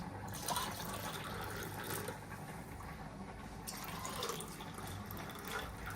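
Lukewarm water poured into a glass in a home kitchen, a steady close splashing fill lasting several seconds with a faint hiss of liquid and no talking.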